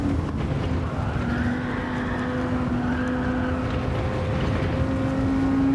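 Steady drone of a stock car engine on sport medium tires in a racing video game, holding an even pitch with a slight rise and fall, loud and continuous with no talk.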